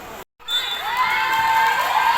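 After a brief silent gap, spectators at a local volleyball game in Bacolod City erupt in shrill shouting and cheering, excited voices rising and holding loudly to the end.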